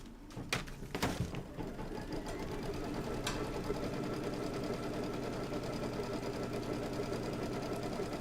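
An embroidery machine stitches a tack-down line on felt for a seasonal quilting block, a steady fast mechanical chatter running continuously after a few sharp clicks at the start.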